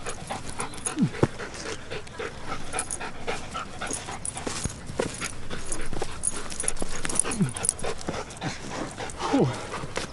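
A dog pants rapidly and steadily, close by, with occasional high whimpers breaking through the breathing.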